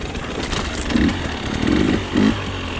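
A 2020 Husqvarna TE300i two-stroke enduro motorcycle engine drones steadily at close range, rising in three short revving surges over a continuous buzzing idle.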